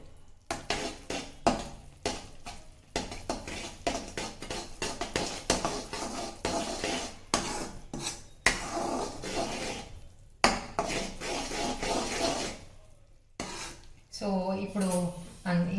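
Spoon scraping and stirring a thick energy bar mixture in a large metal pan, a steady run of clattering, rubbing strokes close up with brief pauses and a faint sizzle near the end.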